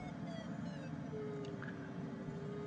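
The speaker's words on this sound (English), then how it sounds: "You heard the tone of the voriometer change there." A steady electronic tone from a DG-808S glider's variometer in Microsoft Flight Simulator hums quietly beneath a constant low background drone, sliding slightly in pitch partway through.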